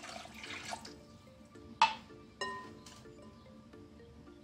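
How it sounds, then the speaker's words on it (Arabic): A glass of water poured into eggless cake batter gives a brief liquid splash and trickle, with a couple of sharper clinks of glass or a utensil against the bowl. "غادي ندير كاس ديال الماء"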